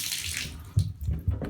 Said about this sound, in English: how do you get the water to turn on? You pull out, right?